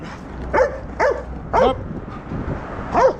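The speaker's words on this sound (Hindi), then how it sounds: "देख लो कैमरे को देख के भौंक रहा है" A dog barks at a camera, giving five sharp barks in an uneven rhythm over about three seconds, close and fairly loud, with no talking over them.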